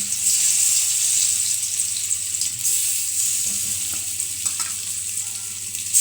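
Boiled potato frying in oil, a bright steady high-pitched sizzle close by, with occasional soft stirring knocks and scrapes underneath.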